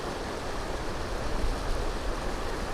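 Waterfall spilling over rocks near a stone bridge on a sunny road trip toward Yellowstone National Park, a steady, even rush of falling water heard alone at moderate distance.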